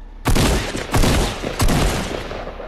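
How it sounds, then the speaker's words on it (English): An automatic tactical shotgun in the video game Fortnite fires three loud, booming blasts spaced roughly a second apart, each decaying quickly, with no talking. "That was an automatic tactical shotgun."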